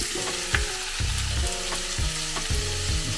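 Vegetables frying in rendered pancetta fat give a continuous close sizzle, with regular scraping thumps from a utensil stirring them around the pan, no speech.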